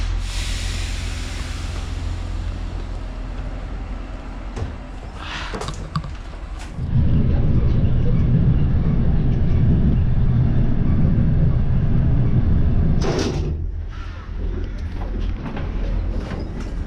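Train travel from Gomel toward Mozyr: a low rumble of a train car rolls steadily, louder for a few seconds mid-way, with faint clunks and no talk.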